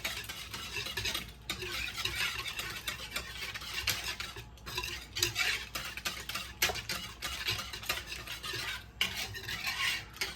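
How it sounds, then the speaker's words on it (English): A whisk stirs spices into yogurt for dahi bhalla, giving a steady scraping, clinking swirl against the bowl with brief pauses and no talk. "I'm gonna whisk that in."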